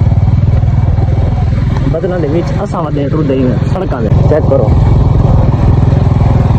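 Motorcycle riding along roads, a loud close steady engine drone with rattling clatter, someone talking over it throughout.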